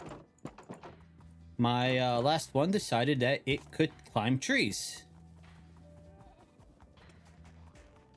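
Donkey hooves clip-clop in the TerraFirmaCraft video game during a ride, a quick run of hoofbeats mixed with game noises, with someone talking over the start and end.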